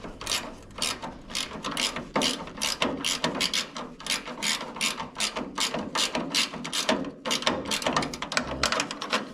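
A hand ratchet clicks rapidly and steadily while tightening a fastener on the eyebrow molding of a 1964 Chevrolet Impala, a close, continuous run of sharp pawl clicks with brief pauses and no talking.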